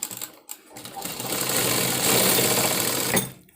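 A sewing machine stitches the front dart of a blouse, its motor whirring up to a steady, dense run for about two seconds before stopping, close and fairly loud.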